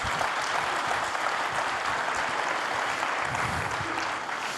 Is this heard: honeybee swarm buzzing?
no